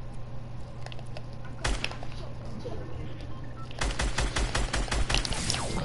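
Video game gunfire in an online shooter match: rapid bursts of sharp shots, sparse at first and then a dense automatic volley near the end, over a steady low hum of game sound, with no talking.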